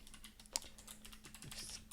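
Light, quick keystrokes on a computer keyboard, a short uneven burst of clicks with one sharper tap, close and quiet.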